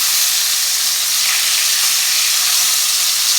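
Sausages frying in a pan just after turning, giving a loud, even, unbroken sizzle that hisses steadily throughout with no talking.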